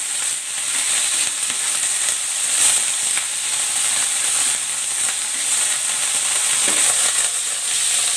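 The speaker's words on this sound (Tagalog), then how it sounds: "Next, stir fry ko muna itong liver." Pork liver stir-frying in a pan for menudo gives a loud, steady sizzle and hiss with occasional stirring scrapes and no voices.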